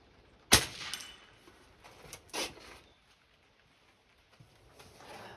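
A Benjamin 397S pneumatic air rifle fires once outdoors at a 50-yard target, giving a single sharp crack followed by quiet and a fainter, brief knock a couple of seconds later.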